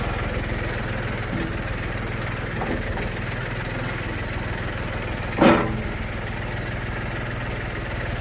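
A tractor engine idles steadily nearby, a constant low rumble, with one brief clank partway through; the tractor has forks fitted.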